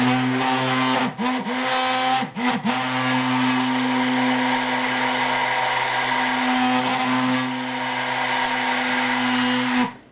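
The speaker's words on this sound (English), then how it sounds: "So that's what your stick blender sounds like in salt." A stick blender whirs continuously at a steady, loud pitch, dipping briefly twice early on as it churns a thick soap and salt mixture, then cutting off.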